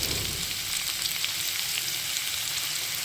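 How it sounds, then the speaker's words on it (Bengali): Partly boiled potatoes fry in a pan and are stirred, giving a dense, even sizzle with faint scraping, steady and close throughout, no speech. "নুনটা দিয়ে খুব ভালোভাবে এইভাবে নেড়ে চেড়ে একটু ভেজে নেবো"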